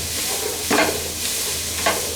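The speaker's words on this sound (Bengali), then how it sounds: "খুব বেশি না শক্ত শক্ত করেই ভাজবো" Vegetables for chicken fried rice fry in a pan with a salt sprinkle, a loud continuous sizzle broken by two sharp stirring scrapes.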